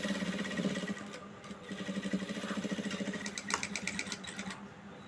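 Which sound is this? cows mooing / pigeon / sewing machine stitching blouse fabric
sewing machine stitching blouse fabric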